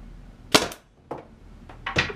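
A Tippmann TCR paintball marker firing on a high-velocity setting, four sharp close pops spaced unevenly over about two seconds with quiet between shots.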